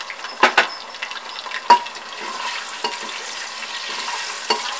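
Finely chopped large onion frying in oil with a spoon stirring it, a close bright sizzle punctuated by several loud clanks and scrapes of metal against the pan.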